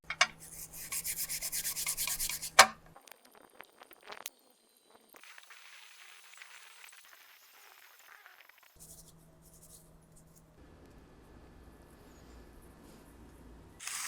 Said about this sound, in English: I'll use some steel wool to try to loosen some of the stuff on the metal